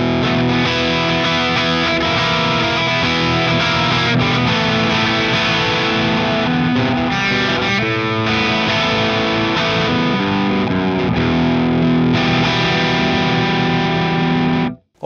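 Electric guitar through a Friedman IR-X pedal set to a Plexi-style amp tone with everything maxed and brightness backed off, playing a continuous loud distorted passage that cuts off abruptly at the end.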